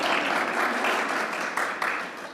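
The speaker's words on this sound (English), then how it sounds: "Wasn't expecting to get applause already." Audience at a film preview and panel discussion applauds, a dense steady clapping from a crowd filling the room, loud and continuous with slight swells, no talk over it.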